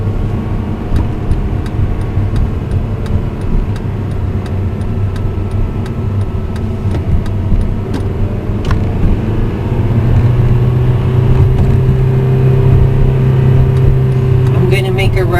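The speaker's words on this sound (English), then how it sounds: "little bit of gas and drive to the top of the neighborhood" A car with a manual transmission creeps slowly through a neighborhood, its engine a low steady hum that rises slightly with a bit of gas toward the end, while a person talks throughout.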